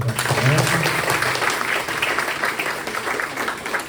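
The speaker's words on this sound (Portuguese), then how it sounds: "Você pode dar um forte aplauso pela sua presença." Church congregation applauding at a Baptist Sunday family service, a steady wash of clapping lasting the whole few seconds with some voices mixed in.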